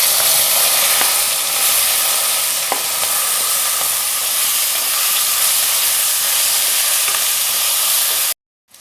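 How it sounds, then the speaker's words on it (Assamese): Okra coated with turmeric and salt frying in hot oil in a wok, a steady loud sizzle that runs almost without a break and cuts off abruptly near the end, with no talking. "তেল গৰম হৈছে, ভেন্দিখিনিত হালধি নিমখ সানি লৈছিলোঁ। এতিয়া ভেন্দিখিনি ভাজি"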